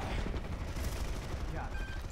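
Gunfire in a multiplayer shooter stronghold capture match, dense rapid shots and bursts filling the clip at steady loudness over game background noise.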